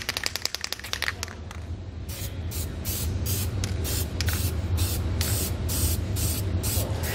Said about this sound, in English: grab some black spray paint or any color that fits your truck. We'll just kind of paint this to keep it from rusting.